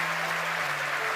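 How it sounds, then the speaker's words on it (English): A crowd at SpaceX headquarters in Hawthorne cheers and applauds during a Falcon 9 first stage landing, a dense, steady roar of voices and clapping. "The crowd's going nuts here at SpaceX headquarters in Hawthorne"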